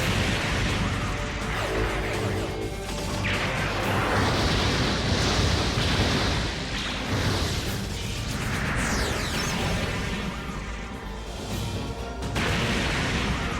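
Repeated explosive bursts from high funnel and fin funnel attacks in the MS Saga: A New Dawn video game, a dense, loud, continuous roar of blasts and rumbling with no talk over it.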